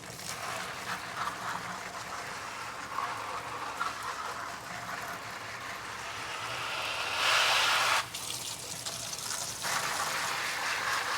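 Tap water runs steadily over plant cuttings being rinsed, a moderate splashing flow with a louder, brighter gush near the end before it eases off.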